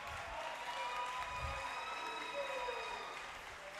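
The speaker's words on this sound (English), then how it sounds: "Please, let's clap as he comes up." Faint audience clapping at a School of Pharmacy white coat ceremony, soft and somewhat distant, with a thin tonal hum running underneath and the clapping tapering slightly toward the end.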